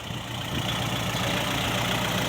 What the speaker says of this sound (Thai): เดี๋ยวรถไถไปดัน